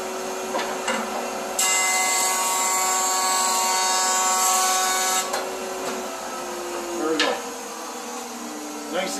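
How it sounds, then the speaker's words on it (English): A wood board is fed through a cutter while making dovetail drawers, the machine skipping where it misses the wood. A loud, steady, high whine runs for several seconds amid workshop noise, with a short squeal near the end. "If I hear any kind of skip in the board where it's missing the cutter, then I'll just run it again."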